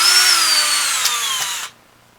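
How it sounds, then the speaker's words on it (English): Power drill boring holes in a wooden bow, a loud close whining spin that slowly drops in pitch under load before cutting off abruptly, leaving quiet. "and then we drill and tap"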